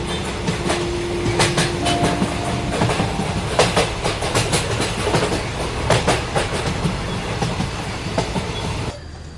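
A tram rolls along a city street near a bridge, its steady wheel rumble and rhythmic clickety-clack carrying on without pause until a sudden drop at the very end.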